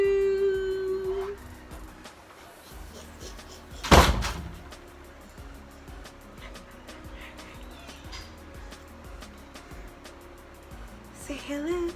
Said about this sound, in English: Now you can shut the door.